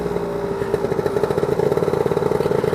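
A Lambretta RT 240 scooter fitted with a BGM PRO MZ30 exhaust runs loud and close, its two-stroke engine pulsing in a fast, buzzy rhythm that builds slightly in intensity.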